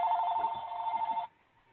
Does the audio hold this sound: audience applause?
no